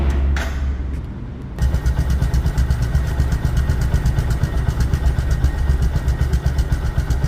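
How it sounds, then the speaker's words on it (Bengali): A 2020 Bajaj Discover 125 cc motorcycle engine starts after a short pause and then runs at a steady idle, loud and close, with an even rapid thumping rhythm throughout. "রানিং অবস্থায় গাড়িটি সাউন্ড শুনুন"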